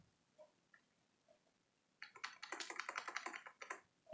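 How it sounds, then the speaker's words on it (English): Rapid keystrokes on a computer keyboard while entering a command in a Windows CMD terminal, starting after a quiet pause with a few soft clicks, then a dense, close burst of quick tapping for about two seconds. "Type this line"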